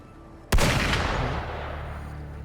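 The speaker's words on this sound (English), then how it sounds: "Gunfire! We've got intruders." A single loud video-game gunshot crack in Wuthering Waves followed by a long, rumbling echo that slowly fades away.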